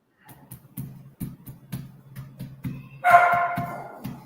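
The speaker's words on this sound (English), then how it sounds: "the time my dogs start fighting and barking" Dogs fighting and barking in a home. A run of rhythmic barks and yips builds into a louder, snarling burst of scuffling near the end, fairly close and alone without talk.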